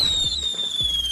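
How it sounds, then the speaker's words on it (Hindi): Firecrackers burst in a rapid string of sharp, loud cracks and bangs close by, with a steady high whistle running under the blasts. "फ्री के पटाखे फोड़ने का ऐसा तरीका शायद आपने आज से पहले कभी नहीं देखा होगा।"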